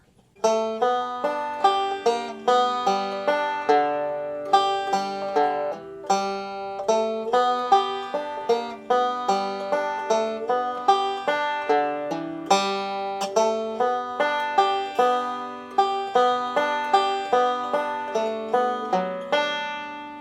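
A plucked banjo picks a steady, bright melody of "I'll Fly Away" with quick rolling notes, played solo and close up, with no voices.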